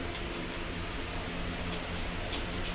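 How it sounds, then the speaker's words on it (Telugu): Heavy rain pours down outside, heard as a steady, even hiss of falling water at a low level with no other sounds standing out. "ఫుల్ వర్షం పడుతుంది బయట"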